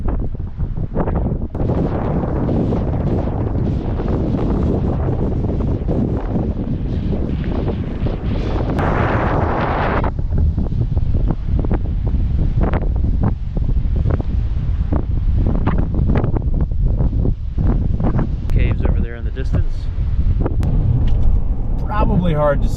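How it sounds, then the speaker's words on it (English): Strong wind buffets the microphone outdoors on the Oregon coast, a steady loud roar of gusts throughout with occasional rustling and bumps. "It's windy out here"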